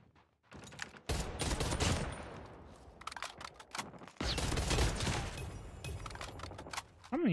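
Bursts of gunfire during a Call of Duty Mobile championship match, with rapid automatic volleys and sharp shots coming in clusters separated by brief lulls, fairly loud and close.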